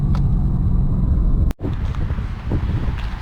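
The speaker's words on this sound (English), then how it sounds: "Quicker with the exhaust open." A Lexus IS-F drives with its exhaust valve open, a loud, deep, steady drone under heavy wind buffeting that briefly drops out before the engine noise picks back up.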